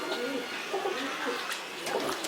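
Female tippler pigeons coo softly in a loft, low repeated murmuring calls close by, with someone talking over them.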